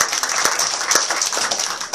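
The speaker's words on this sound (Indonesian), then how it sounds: "Berikan tepuk tangan buat Yes." A crowd claps and applauds continuously, a dense patter of many hands, moderately loud throughout.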